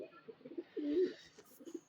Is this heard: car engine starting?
no